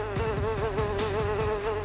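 Houseflies drone in a close, steady buzz with a wavering pitch, swarming over rubbish left after Eid al-Adha in Karachi, with no voices over them.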